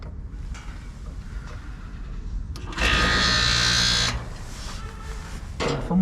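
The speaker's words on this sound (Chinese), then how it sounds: "现在压缩机是有声音啊，但是这个风扇不转。" An air conditioner compressor running while its fan motor is seized by rust, a low steady hum that swells into a loud roaring whir for about a second, then settles back, close by with no speech.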